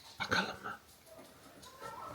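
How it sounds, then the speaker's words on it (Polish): Two large dogs at a neighbour's house bark and whimper at a distance, in a few short, faint yelps. Quiet background noise fills the gaps. "te psy szczekają jeden przez drugiego"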